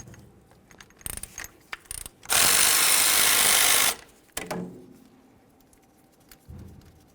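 Mechanic's tools work on the 10mm brake caliper slider bolts of a 2002-2005 Ford Explorer's rear brakes: sharp metallic clicks and clanks, then a loud, steady burst of a power tool lasting about a second and a half, followed by more scattered clinks.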